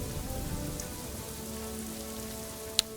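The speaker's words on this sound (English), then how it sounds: "It's raining, it's pouring." Steady rain pattering on surfaces in the video game AFK: Journey, a continuous even wash with a faint background tone and one sharp tick near the end.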